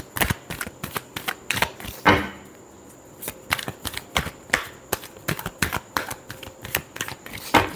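Tarot cards being shuffled by hand in a series of quick, crisp papery bursts and riffles with brief pauses, close and fairly loud, with no talking.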